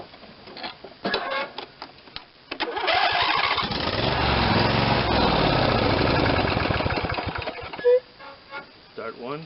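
A Briggs & Stratton twin-cylinder engine that had trouble turning over is restarted: after some clicks and handling noises, the starter cranks loudly and steadily for several seconds, then stops, followed by a sharp clunk and lighter handling sounds.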